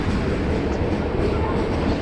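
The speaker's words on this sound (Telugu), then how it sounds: "ఫోటో తీస్తే సడన్గా ట్రైన్ కదిలింది" A train pulls off and keeps moving, a loud, steady rumble filling the space without clear breaks.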